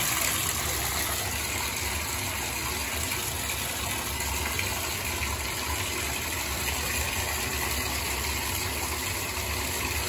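Steady rushing water runs continuously, a dense, even wash of sound with no breaks and no voices.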